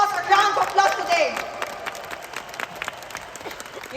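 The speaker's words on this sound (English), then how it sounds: "Can we all give boss a round of applause today?" Applause from an audience at a company recognition event for a boss training to become a professional skydiver, with a loud burst at the start that thins into scattered claps and faint crowd noise.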